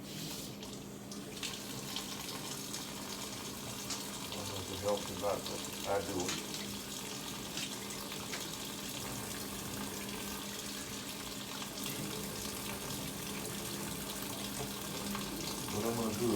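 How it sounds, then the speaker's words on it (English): Cold water running from a kitchen tap while onions are being prepared, a continuous steady hiss and splash throughout, with a person talking briefly over it. "I turn on cold water."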